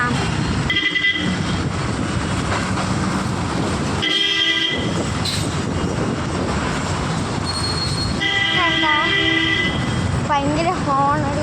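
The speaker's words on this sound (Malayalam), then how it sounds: "ഭയങ്കര ഹോണടി അവസ്ഥയാണ്." Dense traffic in a jammed Kerala street during a ride toward school, with repeated loud vehicle horns in short and long blasts and rumbling engines, one horn warbling.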